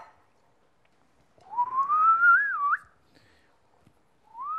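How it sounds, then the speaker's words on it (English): A person whistles a rising, wavering tune in a kitchen while cooking, a clear sustained note lasting over a second, then a brief second rising whistle after a pause, with no speech. "And if you whistle when you do it,"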